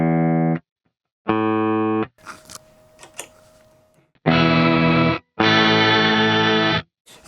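A guitar runs through a Tallon Electric octave pedal that stacks three octaves, giving thick distorted bursts of sustained notes separated by short pauses and a stretch of quieter scratchy picking in the middle.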